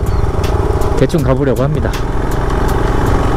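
A 2020 Royal Enfield Himalayan motorcycle engine runs on a road from Kathmandu to Dhulikhel, rumbling steadily close by with a brief revving pitch sweep, while someone speaks over it.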